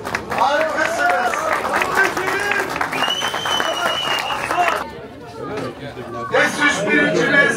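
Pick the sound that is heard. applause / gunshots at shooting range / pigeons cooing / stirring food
applause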